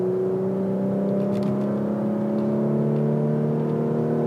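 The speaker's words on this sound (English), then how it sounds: "with this twin-turbo 6-cylinder engine is that it does just want to climb" A Porsche Macan GTS with a twin-turbo six-cylinder engine, in Sport Plus mode, pulls hard with a steady, rising engine drone that climbs smoothly in pitch, close and loud, with no talking.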